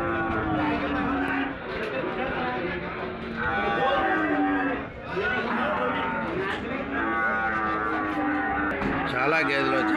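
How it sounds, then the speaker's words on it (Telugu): Buffaloes mooing repeatedly at a busy Sunday livestock market in Erragadda, with several long, overlapping calls near and far over a constant crowd murmur and occasional voices. "చాలా గేదెలు వచ్చాయి."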